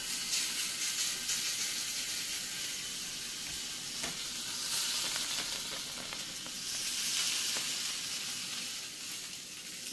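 Sausage sizzles in a fryer turned up to high heat for a breakfast sandwich, a dense, steady crackling hiss that swells and eases over several seconds, with occasional faint pops, no speech.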